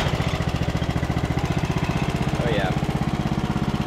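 Engine of a Bolens riding mower, fired up without choke after a revival, running steadily with a fast, even chugging pulse close by, while someone speaks briefly over it.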